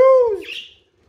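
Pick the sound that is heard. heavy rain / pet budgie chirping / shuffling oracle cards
pet budgie chirping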